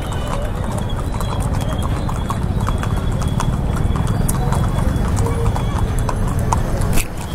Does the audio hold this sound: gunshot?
no